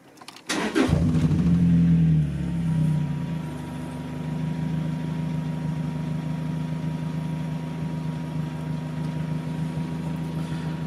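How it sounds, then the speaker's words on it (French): A Lotus Elise S2 111R engine cranks and fires up with a loud rising roar, then settles into a steady, droning idle up close, with no voices. "je vais vous laisser profiter du bruit au démarrage"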